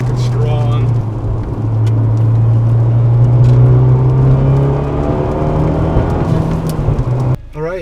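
A Fiat 124 Spider cruising at night gives a loud, close, steady engine drone with a constant low hum, then drops off abruptly near the end.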